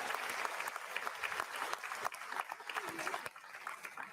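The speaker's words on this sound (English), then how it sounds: "let's give a round of applause to all of our leadership candidates" Steady applause for the candidates at a Conservative Party of Canada leadership debate, a dense even wash of clapping from the audience throughout.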